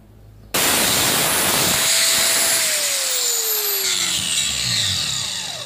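A power tool cuts through an exhaust pipe near a catalytic converter on a 2002 Nissan Xterra 3.3, starting abruptly into a loud, harsh, sustained grinding whine that shifts pitch as the blade bites, close and without talk.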